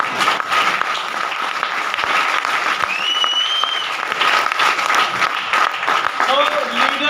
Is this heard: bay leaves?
no